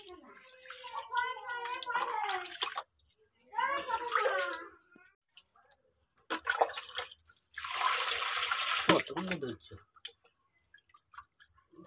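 Rohu fish roe washed by hand in water, with bursts of splashing and sloshing in a bowl between pauses, close and fairly loud, while people talk intermittently.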